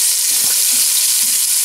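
Celery and onions cooking in a pot for a pot roast with red wine, giving a loud, steady hiss of frying with a couple of faint low bumps, short and close, with no talk.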